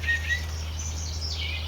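Small songbird at a backyard feeder, a white-breasted nuthatch or black-capped chickadee, giving a few brief high chirps over a steady low hum.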